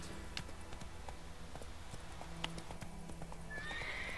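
Horse in The Witcher 3 video game, quiet clopping hooves in an irregular trot followed by a rising whinny near the end, all fairly faint.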